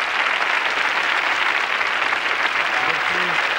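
A crowd at a 1992 Spanish copla gala claps continuously in a dense, steady wash of applause, with a few faint voices and a brief tone rising near the end.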